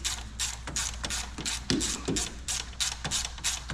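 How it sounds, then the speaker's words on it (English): A wrench works a nut loose on the injection pump of an impound-bought Cummins diesel, giving repeated dense metallic clicks and rasps close up, like a ratchet being worked in steady short bursts with no talking. "I got the nut loosened up on the injection pump."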